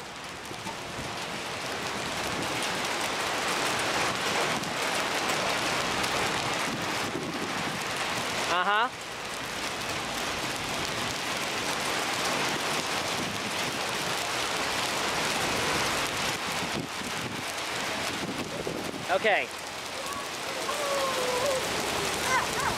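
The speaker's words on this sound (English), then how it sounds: "All right, we got a pea-sized hail once again." Pea-sized hail falling with wind in a storm, a dense, steady pattering hiss with gusty rumble throughout, while people briefly speak.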